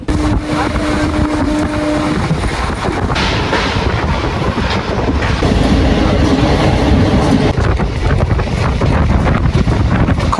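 A train rumbles steadily into Manpur station in Bihar with loud, continuous rolling noise and wind buffeting the microphone, a brief tonal hum early on, no voices.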